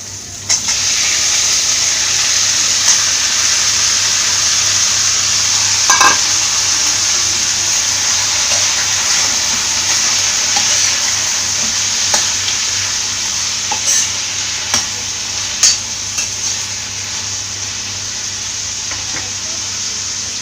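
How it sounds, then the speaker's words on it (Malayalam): Chopped green tomato is stir-fried for a Kerala thoran, sizzling loudly and steadily in a hot pan, with occasional scrapes and clinks of a stirring spoon against the pan, close and continuous. "ഇനി ഇതിലേക്ക് അരിഞ്ഞ് വെച്ചിരിക്കുന്ന തക്കാളി ചേർത്ത് കൊടുക്കാം."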